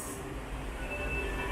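Washington Metro Red Line subway train heard from a concrete underground station, a steady low rumble of wheels and motors with faint high squeal tones, continuous and fairly loud throughout.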